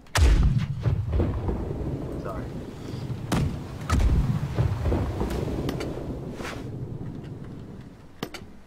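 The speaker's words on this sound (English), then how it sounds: "And cannon's ready when you are." Heavy ship cannon fire in the naval combat game Blackwake, several loud booming blasts at irregular intervals with rumbling tails, close and heavy, while players talk in between.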